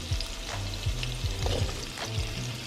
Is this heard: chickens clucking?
no